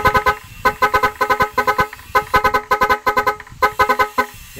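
A novelty horn newly installed on an Isuzu double cab pickup plays a loud, rhythmic melodic pattern of rapid tonal bursts in repeated phrases, close and alone without talk.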